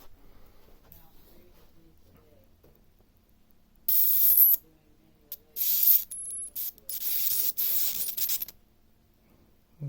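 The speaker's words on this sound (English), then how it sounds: "Let's get real close to striking arc." A high-voltage arc from a flyback transformer circuit gives sharp hissing, crackling bursts that start and stop several times. It is close and fairly loud against a quiet background.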